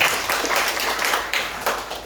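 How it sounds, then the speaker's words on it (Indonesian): A church congregation applauds during a sermon, a short burst of steady, moderately loud clapping from many people lasting about two seconds. "Berikan tepuk tangan untuk Tuhan."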